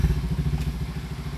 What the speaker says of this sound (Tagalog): Check yung Dominar. May kumakalansing kasi.